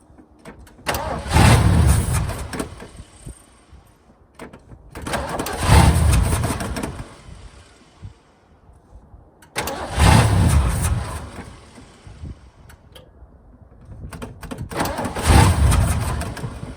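A 1968 Ford F100 pickup engine is cranked and fires repeatedly: four loud bursts of cranking and rough catching, each a couple of seconds long, separated by quieter pauses, heard close with no talking.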